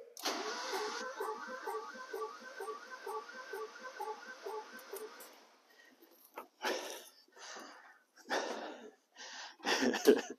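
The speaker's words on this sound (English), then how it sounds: "Mike, can you hold the throttle wide open out there?" A Mazda Spec Miata MX5 engine held at wide open throttle gives a steady buzzing drone for about five seconds, then cuts off, followed by scattered bursts of noise and rustling.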